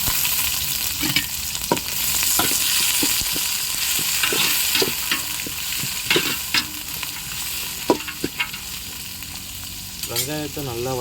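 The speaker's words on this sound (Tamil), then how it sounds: "ஓரளவுக்கு அந்த பொன்னிறம் வர அளவுக்கு நம்ம வெங்காயத்தை நல்லா வதக்கிக்கணும்." Onions sautéing in a pan until golden for chicken biryani, a close steady sizzle broken by repeated scraping stirs and ladle taps, continuous for the whole stretch.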